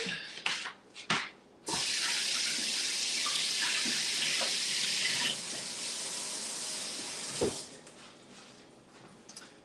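Tap water runs steadily into a kitchen sink while ginger root is rinsed under the stream, a continuous hiss broken by a few short splashes and clanks at the start.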